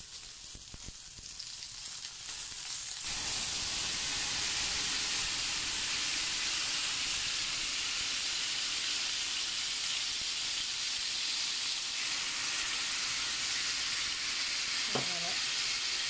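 Beef bourguignon made without alcohol, simmering in a pot with broth and a little water, gives a steady close sizzle and hiss. It starts quieter for about three seconds, then holds loud, and a brief voice cuts in near the end.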